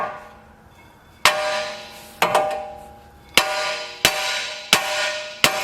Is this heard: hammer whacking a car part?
yes